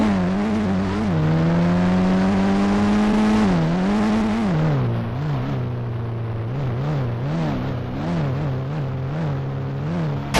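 A car engine in a video game drones steadily and loudly throughout, its pitch climbing as it revs, then dropping and wavering through repeated shifts, with no voices.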